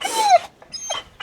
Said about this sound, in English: Our dog is refusing to get out of the car.